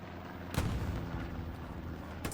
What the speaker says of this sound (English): Sounds like getting shot from the east in this case.